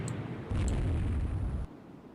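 Torpedo hits in the naval strategy game Rule the Waves 2: a sustained low rumbling blast swells in at once, rolls heavily for just over a second, then cuts off, leaving a softer background.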